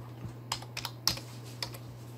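A handful of light clicks from a computer keyboard as a single word is typed, quiet and close, spaced irregularly over a faint steady hum, with no talk.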